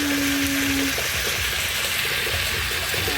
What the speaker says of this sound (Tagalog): lalagyan na natin siya ng water